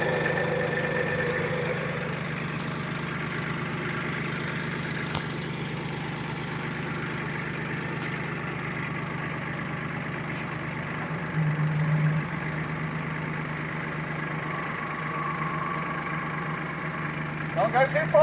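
A Kubota L3800 tractor engine runs steadily at a low idle-like rumble as the tractor pulls forward after a backhoe is unhitched, a constant close drone with a brief bump in level, and someone talking over it.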